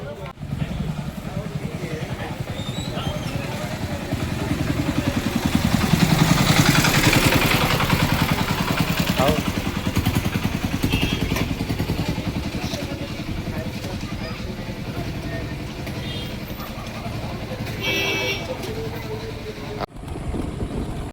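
Vehicle rolling slowly over a rough brick road, a continuous engine drone with rattling clatter from the bumpy surface, steady and close, swelling slightly midway, with occasional voices over it.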